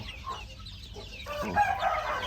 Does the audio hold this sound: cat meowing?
no